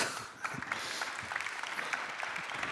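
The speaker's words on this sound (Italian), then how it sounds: "Un bel applauso." Applause from a seated audience at an Italian lecture-dialogue event, steady dense clapping throughout the short stretch with no voices over it.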